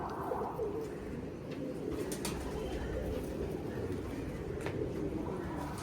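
Pet pigeons cooing softly in a loft, a steady low murmur of repeated coos with a few faint chirps, quiet and continuous throughout, no speech.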